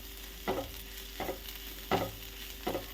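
Spice powders for a Kerala-style prawn roast masala are stirred in a pan, with four distinct scraping strokes at a slow, even rhythm over a faint steady sizzle, close and clear.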